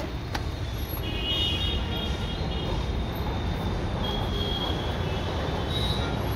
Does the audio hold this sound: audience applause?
no